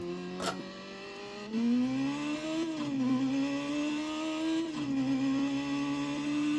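A coupe's engine revs and drones steadily in the racing game Burnout Legends, pitch rising and dipping through gear changes with a steady whir, loud and alone with no voices.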